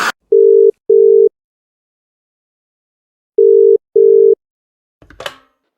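A landline telephone sounds two pairs of short, loud steady tone bursts separated by a pause, as when phoning in an order, followed by a brief clunk of handset noise at the end.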